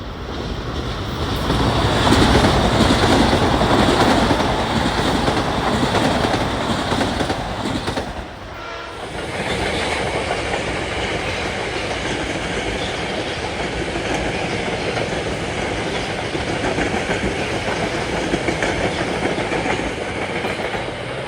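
A Metro-North train passes on the Harlem Line on an evening of holiday lights trains, a loud, sustained rumble and rattling of wheels on rails, dipping briefly before the long roar continues steadily and close.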